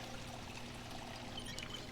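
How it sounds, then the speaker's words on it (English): Water pouring steadily into containers in the Project Zomboid video game, a continuous close trickling stream with no talk over it. "Fill everything with water."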